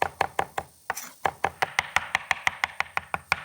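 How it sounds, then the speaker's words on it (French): A knife chops herbs finely on a board in a French kitchen, making about fifteen crisp, evenly spaced strikes with a brief pause early on, close and fairly loud. "Là, il faut bien rassembler pour hacher un maximum."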